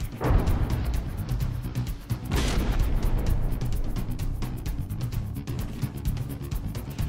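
Warship guns firing in a From the Depths battle, a dense, continuous rumble of overlapping booms and rapid gunfire with a heavier blast partway through, loud and unbroken throughout.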